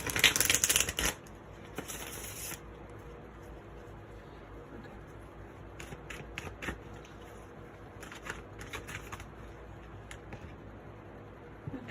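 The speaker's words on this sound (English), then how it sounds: "I'm going to shuffle these just once." Tarot cards are given a single brisk, loud riffle shuffle lasting a couple of seconds, then faint papery taps and handling sounds as the deck settles.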